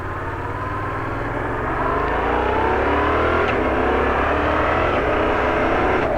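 A Yamaha MT-07 naked motorcycle engine pulls hard while riding, a loud continuous growl that rises steadily in pitch under wind rush, heard close with no talking.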